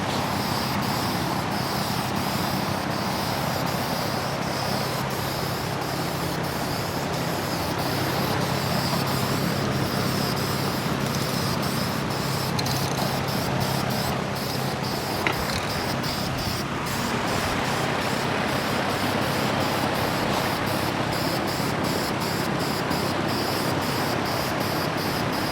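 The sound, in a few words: spray painting light coats on a 302 engine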